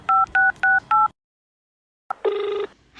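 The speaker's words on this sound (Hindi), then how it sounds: "अभी अपनी मम्मी के पास फोन मिलाती हूँ।" Four short two-tone keypad beeps from a phone number being dialed to call mother, then a pause before a brief chirp and a sustained electronic tone, crisp and close with no voices.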